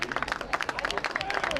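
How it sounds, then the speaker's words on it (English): Audience applause at a girls high school soccer game between Kearsarge and Newport, a dense patter of clapping hands with crowd murmur mixed in, sustained and fairly close throughout. "Nice round of applause"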